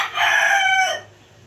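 A two-year-old rooster crowing once, close and loud, a single sustained call lasting about a second that fades into quiet farmyard background.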